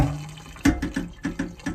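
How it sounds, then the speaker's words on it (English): Boiling water poured over the surface of a new carbon steel pan, heard as a soft running stream broken by several sharp splashing bursts, close up and with no talking. "We're going to put some boiling water over the surface."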